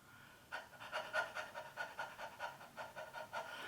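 A person imitates a dog panting with the tongue out, a quick steady run of about a dozen breathy huffs, close and fairly soft, with no talking.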